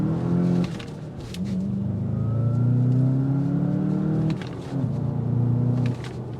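2025 Volkswagen Jetta GLI accelerating on a test drive, its exhaust note rising as the engine climbs through gears, heard from inside the car as a steady moderate drone with pitch dips at each shift.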